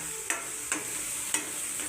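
A spoon scrapes around a pan of mutton gravy with vajadi in four evenly spaced strokes over a soft constant sizzle, close and fairly quiet.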